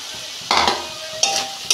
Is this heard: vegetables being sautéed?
yes